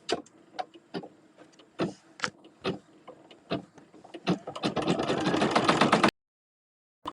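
An embroidery machine stitches an in-the-hoop pot holder. Scattered sharp mechanical clicks build into a dense, rapid run of stitching that stops abruptly near the end.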